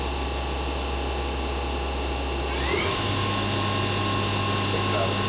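A Fadal VMC 4020FX vertical machining center's spindle hums steadily, then about halfway through the pitch rises as it spins up toward 4000 RPM, settling into a louder, higher whine with a mechanical hum underneath.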